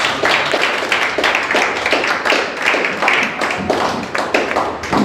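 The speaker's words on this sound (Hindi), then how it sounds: "परमेश्वर का स्वागत करें जोर से तालियों के साथ" Loud, dense applause from a church congregation, many hands clapping continuously throughout.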